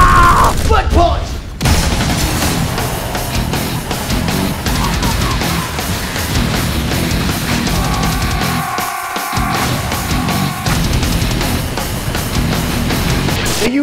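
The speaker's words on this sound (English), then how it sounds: "This game is all about shooting guns." Loud, relentless gunfire from the side-scrolling shooter Serious Sam Double D: dense overlapping shots and booming blasts run almost without pause, with brief tonal game effects in the middle.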